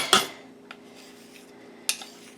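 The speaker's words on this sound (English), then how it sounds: "I just had me a couple of big spoons that I'm going to set them out with" Big metal spoons clack against a pot of thickening pecan praline mixture, two sharp scraping knocks about two seconds apart with a faint tap between, close by and with no talk.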